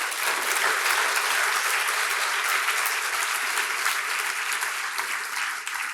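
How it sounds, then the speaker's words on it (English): A conference audience applauds speakers and panelists at a diversity forum, sustained dense clapping that stays steady and loud before tapering slightly at the end. "Let's give them a round of applause, please."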